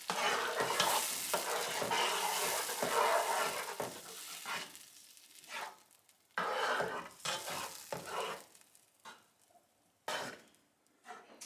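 Fresh tomato marinara sauce with vine tomatoes sizzles in a pan and is stirred in bursts, with loud frying hiss and scraping strokes separated by quieter pauses.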